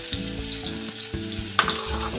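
Onion, garlic and green chili fry in a pan for a palak paneer base, giving a steady close sizzle with light stirring scrapes and one sharper spatter-like crackle partway through.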